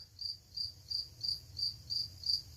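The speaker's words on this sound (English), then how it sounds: "there is one fucking cricket in your basement" A single cricket chirps in a garage, sharp high trills repeating at an even rhythm about every third of a second against a quiet, low rumbling background.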